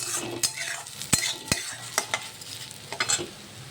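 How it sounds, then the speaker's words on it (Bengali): Golden moong dal dry-frying in a pan for vegetable khichuri, with a spatula scraping and stirring in sharp strokes about every half second over a soft, dry rustle. No voices. "এটা সোনা মুগ ডালটা ভাজা হয়ে গেলে তো খিচুড়িতে দিয়ে"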